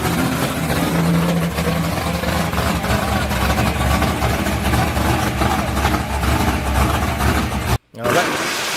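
A car with a loud exhaust and high compression idles at a traffic light at night, a deep, rough, constant rumble close by, cutting out briefly near the end before resuming.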